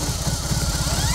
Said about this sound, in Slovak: A teraz potlačím štartovanie.